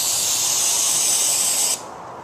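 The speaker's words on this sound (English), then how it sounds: "So let me spray it on." Carburetor cleaner sprayed from an aerosol can onto a greasy carpet: a single steady, loud hiss lasting under two seconds that cuts off abruptly, with nothing else heard.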